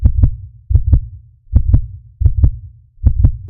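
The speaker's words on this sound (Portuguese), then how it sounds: "o coração batendo descontrolado" Heartbeat sound effect for a spoken horror story: steady double thumps, lub-dub pairs repeating about every three-quarters of a second, loud, close and deep, with no talking over them.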